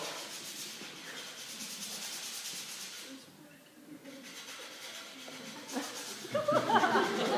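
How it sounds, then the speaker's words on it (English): Heavy-duty sandpaper worked over the edges of a piece of wood to distress it, a continuous close rasping scrub that dips briefly midway, with talk and a little laughter over it. "you want to sand the edges a lot"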